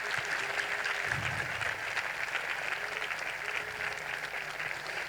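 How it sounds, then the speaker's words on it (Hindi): A church congregation claps loudly and continuously, a dense, even roar of many hands filling the hall for the full stretch. "सारे जोरदार तालियां खुदावंद के जलाल के लिए"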